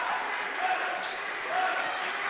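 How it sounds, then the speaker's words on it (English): Players on a girls' high school basketball bench clap their hands in steady, dense applause during a regional playoff game, close and continuous under a busy gym ambience. "And the Pacelli bench clapping their hands, trying to make noise."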